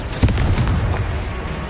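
A Confringo blasting spell explodes in Hogwarts Legacy: one sharp, loud boom near the start, followed by a rumbling, crackling tail that stays dense and fades slowly.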